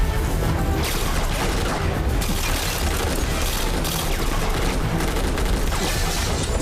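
Sustained heavy gunfire and booming blasts fill an action movie scene, a dense, loud, continuous barrage with bursts that swell and fade across several seconds, no talking over it.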